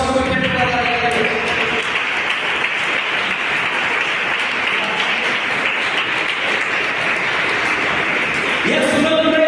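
A church congregation breaks into sustained, loud applause that carries steadily throughout, with a few voices and music faintly audible at the start and end.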